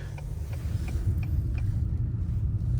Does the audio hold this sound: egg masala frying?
no